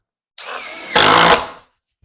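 A power drill or driver runs a screw through 1/2 inch plywood gussets into a wooden truss, a steady whine that jumps into a louder, harsher burst as the screw seats, then stops; close and alone.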